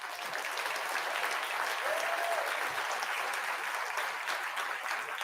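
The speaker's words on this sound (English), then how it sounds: "a round of applause, please." Audience at a police academy graduation ceremony applauds the training staff, a steady, even wash of many hands clapping with a brief voice over it, sustained at moderate volume for five seconds.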